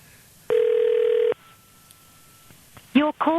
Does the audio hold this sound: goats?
no